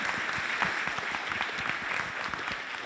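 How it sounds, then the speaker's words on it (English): Audience applause at a university entrepreneurship pitch competition, a dense, steady wash of many hands clapping close and loud for the full length, with no talking over it. "Round of applause for efficiency."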